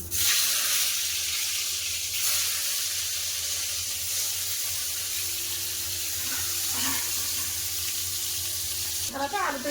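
Eggplant slices frying in hot mustard oil in a kadai, a steady, hissing sizzle that runs throughout at moderate level, with a few faint clinks near the end.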